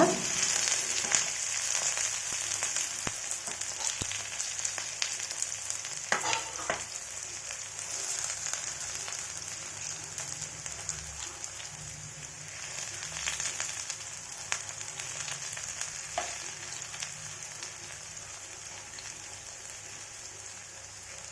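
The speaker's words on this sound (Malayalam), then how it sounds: "ഫ്രൈ ചെയ്തെടുക്കാൻ ഒരു പത്ത് മിനിറ്റ് സിമ്മിൽ വെച്ച് ഇതുപോലെ വെച്ച് കഴിയുമ്പോൾ അത് ഒരു ഭാഗം ഫ്രൈ ആയി കിട്ടും" Bitter gourd (pavakka) slices frying in oil in a pan, a low, even crackling sizzle like light rain, with a few faint clicks and no voices.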